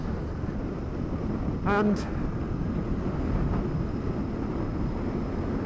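Royal Enfield Interceptor 650 air-cooled twin, warmed up and running while the bike is ridden, a low, steady engine drone under heavy wind rush, with a brief voice over it.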